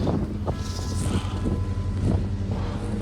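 Strong, cold wind on Mount Kerinci roars steadily across the microphone in dense, gusty buffeting with low rumbling surges, heard alone without talk.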